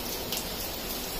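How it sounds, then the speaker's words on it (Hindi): Steady monsoon rain falling outside a balcony in Kerala during July, a continuous soft hiss of drops on surfaces amid lush greenery, even and moderately quiet with no voices. "आज जुलाई 25 है और बारिश हो रहा है"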